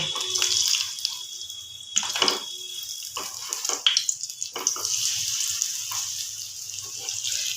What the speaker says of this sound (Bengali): একদম আঁচ কমিয়ে আমাকে এগুলো ভেজে নিতে হবে